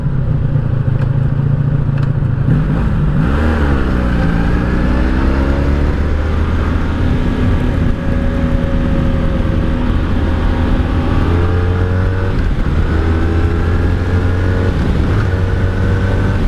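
A 1984 Honda Sabre V65 VF1100S motorcycle is ridden and revved hard, its engine note climbing and dropping through shifts, loud and close, continuous for the whole stretch with no talk.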